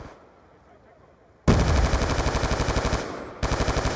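A grenade blast bursts loudly out of near silence during a Call of Duty Black Ops 2 match, followed by rapid sustained machine-gun fire that pauses briefly and resumes.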